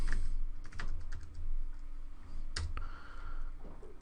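A computer keyboard is typed on in quick, light clicks and taps, close and fairly quiet, with no talking.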